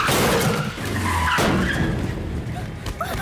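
A car skids in a crash, a loud screeching tire squeal and scraping roar mixed with a noisy commotion and voices in the background.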